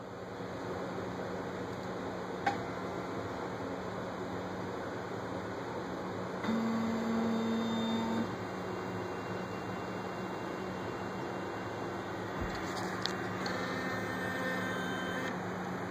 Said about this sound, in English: I've got the carriage set in an awkward position so that you can watch it go home.